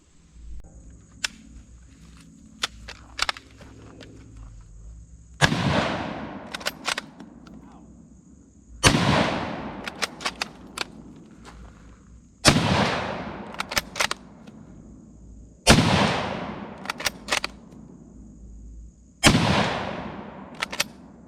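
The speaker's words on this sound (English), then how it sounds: "today we're just shooting some remanufactured Romanian surplus 197 grain IS marked ammunition" A Zastava M48 Mauser rifle fires remanufactured Romanian surplus 197 grain ammunition outdoors, with five loud, sharp reports spaced a few seconds apart, each followed by a ringing decay and softer clicks of the bolt being worked between shots.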